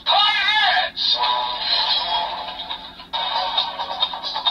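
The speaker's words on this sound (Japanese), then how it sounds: "何かこう鍵爪が当たるようなサウンド" Electronic sound effect from a Kamen Rider Gotchard Ride Chemy trading card in a toy belt, a loud metallic synthesized burst like claws clashing, with warbling tones and a break before a second burst.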